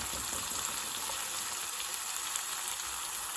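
Tomatoes and vegetables sizzle in a hot pan for chicken masala, a steady bright frying hiss that stays even and close throughout with no voices.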